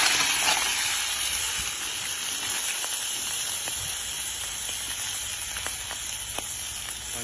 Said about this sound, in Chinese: 葱姜蒜炸锅